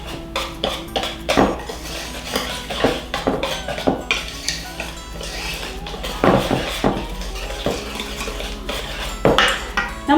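Cornbread batter with sourdough is stirred in a bowl, producing repeated close clinks and scrapes of a utensil against the dish in an uneven rhythm, fairly loud, with no voices.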